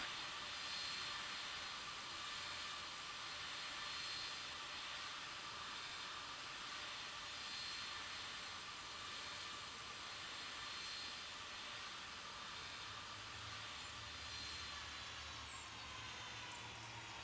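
A distant airliner jet engine hisses and whines steadily as the plane lines up on a runway at Sint Maarten in the Tower! Simulator 3 video game, a faint continuous roar with a low rumble rising near the end.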